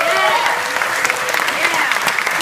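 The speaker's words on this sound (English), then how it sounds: "So give them a round of applause." An audience at a Salvation Army social justice gathering applauds steadily, a dense wash of many hands clapping, with faint voices underneath.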